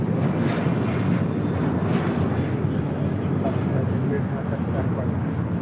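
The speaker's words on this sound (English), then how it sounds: "Next departure, Southwest Airlines flight 1188 heading to Houston, Texas" A Southwest Airlines Boeing 737-800 departs LAX for Houston, its engines a loud, steady broadband roar that holds for the whole stretch, with voices talking faintly over it.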